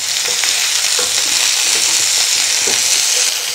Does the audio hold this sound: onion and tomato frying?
yes